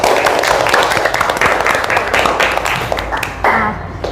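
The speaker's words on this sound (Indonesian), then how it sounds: "Tepuk tangan untuk kita semuanya." A room full of people claps together in quick, rhythmic bursts, loud and close, tapering off near the end.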